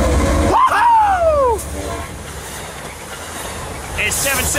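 A BNSF freight train rolls past Poinsettia Station at night with steady rumbling and a long wheel squeal, loud and close. A whoop and some voices come over the top.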